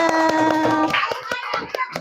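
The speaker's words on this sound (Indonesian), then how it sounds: "Iya, tepuk tangan semuanya." Children clap their hands together in a classroom, a series of sharp, fairly loud claps at an uneven rhythm over a background of children's voices.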